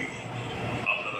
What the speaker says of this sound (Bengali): এখনও রয়েছে গঙ্গার নিচেই ট্রেনখানা।